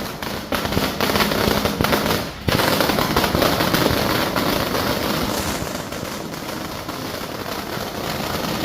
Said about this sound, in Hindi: कार्यकर्ताओं ने पटाखे फोड़कर जश्न मनाया